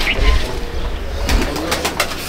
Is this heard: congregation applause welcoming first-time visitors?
no